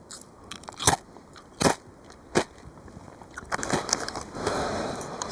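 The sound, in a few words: biting and chewing crunchy food outdoors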